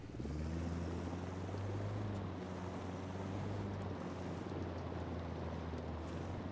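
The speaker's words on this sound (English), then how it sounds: "That's an undead helicopter." An undead helicopter hovers in the game Ghost Recon Wildlands, out over salt flats. Its rotors make a continuous low droning hum, fairly close and steady, mixed with a constant windy hiss.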